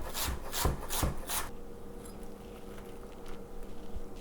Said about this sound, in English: A red onion that I awkwardly cut earlier, so now it's even more awkward to cut